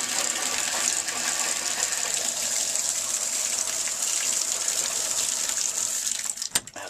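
Water runs steadily through an RV's plumbing lines as it is dewinterized, a continuous hissing gush from a nearby tap or sink that holds a fairly even level, with a few louder clatters near the end.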